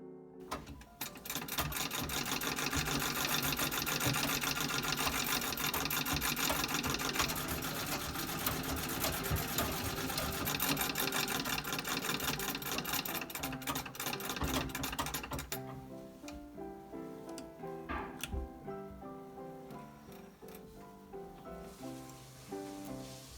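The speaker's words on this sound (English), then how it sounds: "Then with right sides together, I stitched again at 1/4 of an inch." Sewing machine stitching an enclosed organdy French seam on an Edwardian-inspired dress, a fast continuous close mechanical chatter for about fifteen seconds that then slows to quieter, intermittent stitching and clicks.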